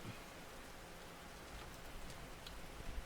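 Heavy rain at night in the video game Russian Fishing 4, a steady dense hiss of downpour with scattered drops, unbroken and close throughout.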